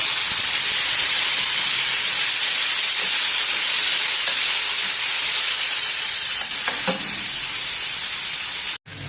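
Tomato pieces fry in a pan for a yellow cucumber chutney, a steady loud sizzle and hiss with faint stirring scrapes, running unbroken until a brief cut near the end.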